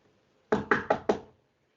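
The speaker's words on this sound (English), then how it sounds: "Suddenly, a knock on the door." Four quick, firm knocks on a door, evenly spaced and close by, in a staged Romeo and Juliet scene, with no voices over them.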